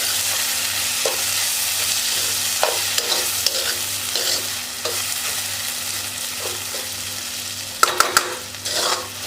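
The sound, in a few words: vegetables frying and being stirred in a pan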